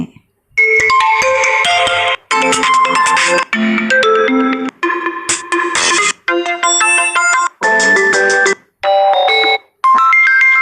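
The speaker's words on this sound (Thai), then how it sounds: "อันนี้จะเป็นเสียงเรียกเข้าของการที่มีคนอื่นโทรมาหาเราค่ะ" Facebook Messenger incoming call ringtone being previewed, a loud, bright electronic chiming pattern played in clear repeated bursts separated by short silent gaps.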